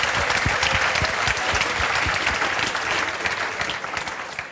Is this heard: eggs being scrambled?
no